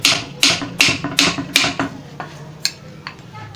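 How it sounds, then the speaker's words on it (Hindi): A hammer gently tapping a pedestal fan part while screws are tightened, giving a run of sharp metallic knocks in quick succession that thin out to lighter, scattered taps, close up and alone. "ये आहिस्ता आहिस्ता चोट दे देकर इसे हमें इन स्क्रू को टाइट करते रहना है।"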